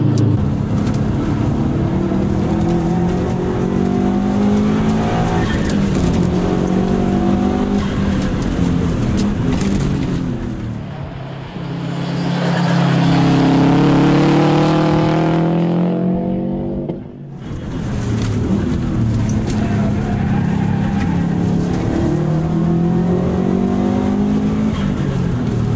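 A race car on Toyo Proxes R888 tyres laps the Oran Park race track, its engine loud and close as it revs through the gears, rising and falling with gear changes and a brief lift around the middle, with no speech.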